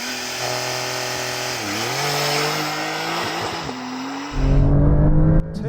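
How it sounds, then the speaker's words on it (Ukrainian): A 1.6-tonne car with an 8-speed gearbox accelerating hard during a timed acceleration run: loud, sustained engine roar climbing in pitch, a brief dip at a gear change, then a rougher burst near the end. "Ладно, виконуємо базовий замір розгону."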